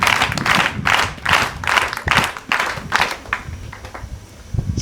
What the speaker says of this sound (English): I ask you to clap for yourself